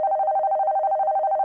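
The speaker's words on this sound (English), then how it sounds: "The phone is ringing." A telephone rings with a steady, warbling electronic tone, loud and close, pulsing rapidly and continuously throughout the short moment with nothing else heard.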